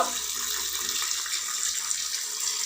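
Water runs steadily from a tap while things are being washed, a continuous hissing splash that holds at an even level throughout, with no talking.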